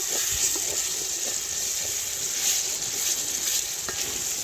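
Onions sizzle in oil in a large, wide iron pot, a steady bright crackle and hiss that runs unbroken throughout, with a few faint stirring clinks.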